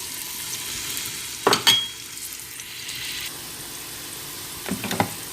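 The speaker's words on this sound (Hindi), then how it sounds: "ऑयल हमारा गरम हो रहा है। अब हम इसमें प्याज डाल देंगे।" Onions sizzle steadily in hot oil for peas pulao, close and loud, with a couple of brief louder crackling bursts breaking through the constant hiss.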